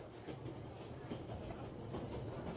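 A steady train rolls on in the WWI-era game Memories Retold, a continuous low rumble with a faint rattle of wagons, even and unbroken throughout.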